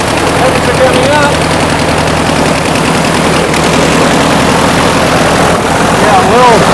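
Engine freshly converted to fuel injection runs loud and rough right after starting, a continuous low throbbing with rapid pulsing, while voices talk faintly underneath.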